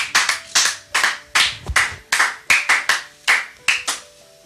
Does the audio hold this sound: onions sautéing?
no